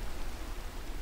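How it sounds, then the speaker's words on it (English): Steady rain in Minecraft's Sky Factory 3 modpack, a dense, even hiss of falling water that holds at a constant loud level without pause. "Let's go ahead and sleep off this rain because it gets a little loud"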